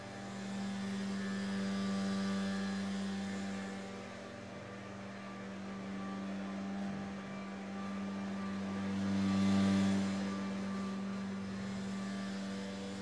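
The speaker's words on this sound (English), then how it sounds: "Excuse that noise of the leaf blowers." Leaf blowers running outdoors among lots of leaves, a steady droning engine hum with a strong low tone that swells and fades as the machines move, loud and continuous with no talk.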